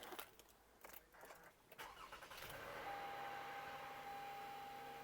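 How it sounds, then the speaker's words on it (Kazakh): A car is push-button started: a short cranking burst, then the engine catches and settles into a steady, fairly quiet idle with a thin whine riding over it. "Мотор әдемі істеп тұр."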